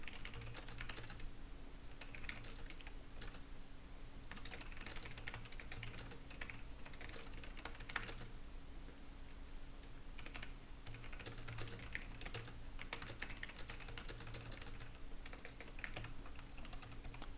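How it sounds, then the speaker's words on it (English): Steady typing on a computer keyboard, rapid irregular clacking that runs the whole stretch with brief pauses, close by and fairly quiet over a low constant hum. "Sorry, typing up a complaint about the triple thing there"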